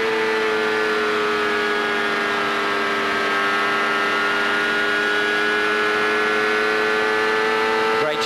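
Ford V8 engine of a 1998 CART race car heard onboard at Homestead, a loud, steady high-pitched drone working hard under power for the whole stretch, with a slight rise in pitch near the end.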